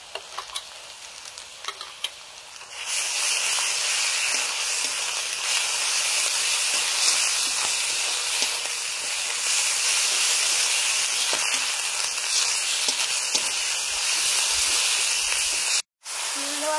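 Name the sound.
garlic and ginger paste spices sizzling in pan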